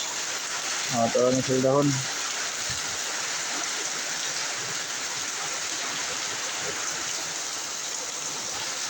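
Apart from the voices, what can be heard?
heavy rain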